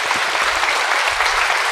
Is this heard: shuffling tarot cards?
no